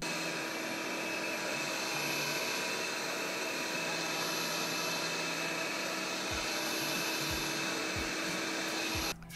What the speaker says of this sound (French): entendre le bruit que peut faire l'aspirateur